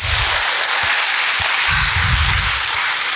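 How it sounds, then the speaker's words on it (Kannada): Audience applause for Brahmarshi Pitamaha Patriji at a 101-minute group meditation gathering, a steady wash of many hands clapping throughout, fairly loud and continuous with no talk over it. "ಬ್ರಹ್ಮರ್ಷಿ ಪಿತಾಮಹ ಪತ್ರಿಜಿಯವರಿಗೆ ಒಂದು ಸರ್ತಿ ಜೋರಾಗಿ ಚಪ್ಪಾಳೆ ಹೊಡೆಯೋಣ ಮಾಸ್ಟರ್ಸ್"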